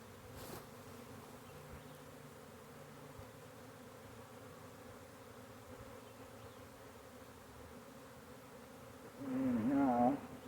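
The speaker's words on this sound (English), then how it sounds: "See another queen in that scoop of bees." Honey bee swarm with multiple queens, a faint steady buzzing drone through most of the stretch that grows suddenly louder and closer near the end as bees pass nearby.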